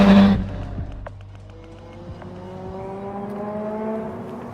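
Lamborghini Miura V12 engine, a classic supercar from around 1971, pulling hard under acceleration, with a loud burst at the start and then rising harmonic engine tones climbing steadily through the rest of the run.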